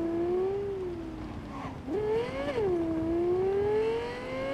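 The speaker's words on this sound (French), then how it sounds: "le bruit de cette bagnole est quand même succulent" A car engine in the video game Cyberpunk 2077 hums steadily, then revs up and drops back down, its pitch sliding in a smooth arc; a close, sustained drone with no talking.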